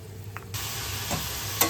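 Radish greens fry in a pan, a sizzle that swells suddenly and keeps crackling, with a spatula scraping and stirring through it.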